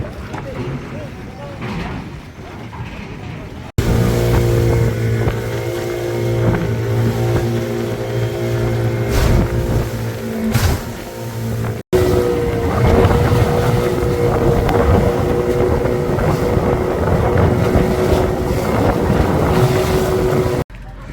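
A motorboat drones across Lake Tana, Ethiopia, with wind buffeting the microphone and splashing hull noise; a voice speaks briefly near the start.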